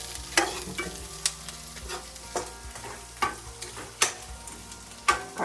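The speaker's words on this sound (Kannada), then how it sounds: "2 ಮಿನಿಟ್ಸ್ ಆರಾಮಾಗಿ ಎಣ್ಣೆಯಲ್ಲಿ ಫ್ರೈ ಮಾಡಿ" Village-style chicken donne biryani ingredients frying in oil while being stirred, a steady low sizzle broken by sharp, repeated clanks of a ladle scraping the pot every second or so, close and alone with no talk.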